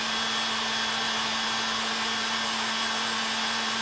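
A heat gun blasts hot air to shrink heat-shrink tubing over wiring while building a toothbrush zappicator, giving a steady, loud, unbroken whooshing drone with a low hum that holds level from start to finish.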